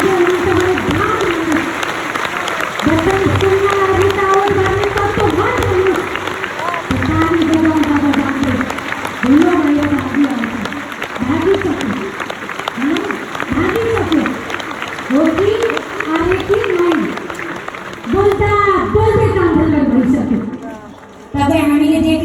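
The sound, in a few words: audience clapping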